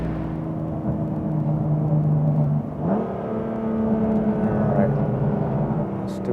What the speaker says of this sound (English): manual mode, sport plus everything, and second gear. Let's see what this thing can do.